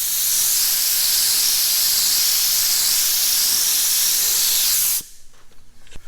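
An aerosol can sprays primer onto a car body for an even coat over scratches. A loud, steady hiss runs for about five seconds and then cuts off abruptly, leaving faint handling noise.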